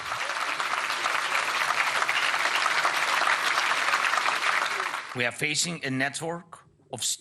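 Standing ovation for Ukraine's President Volodymyr Zelensky in a hall, with dense, loud applause for about five seconds before it fades and a voice speaks over the end.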